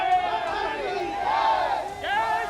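A crowd at a Mathura election gathering during the 2024 Lok Sabha campaign shouts slogans against the media, loud massed voices rising and falling in chant-like swells, with a fresh surge of shouting near the end.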